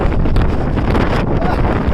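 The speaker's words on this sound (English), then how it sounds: "It's windy. It's very windy." Strong wind on a high spot in Zacatecas, Mexico, buffets the microphone in a steady, loud roar with gusty rumbling throughout.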